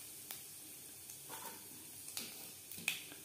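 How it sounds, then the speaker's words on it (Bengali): Five-spice tempering (panch phoron) crackles in oil reheated in a wok after frying fish for a fish curry, a faint soft sizzle with a few scattered sharp pops. "ফোড়নে দিয়ে দিলাম 5 ফোড়ন।"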